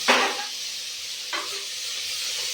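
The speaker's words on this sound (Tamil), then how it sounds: "நல்லா குழைய வரைக்கும் நல்லா வதக்கணும்" Tomatoes sauté in a pan for country-chicken biryani, giving a continuous close sizzling hiss broken by a couple of brief stirring scrapes, with no talking.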